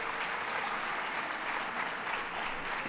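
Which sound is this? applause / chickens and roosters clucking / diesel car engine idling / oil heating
applause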